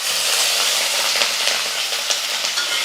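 Curry leaves dropped into hot oil with roasted green chillies in a pan, giving a loud, steady, dense sizzle and crackle up close that holds throughout, with no voices.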